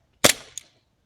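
A We-Tech 24k gold M9 airsoft gas blowback pistol fires one sharp, loud shot at a target about 30 to 40 feet away, followed by a fainter click a moment later.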